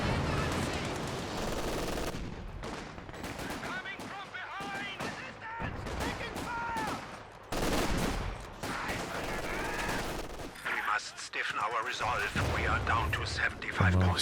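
Machine gun fire in a real-time strategy video game sounds as bursts of rapid gunfire mixed with other battle shots, under a commentator talking continuously throughout.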